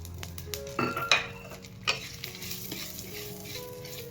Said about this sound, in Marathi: त्याच्यात आता मेथ्या भाजून घेऊया आपण.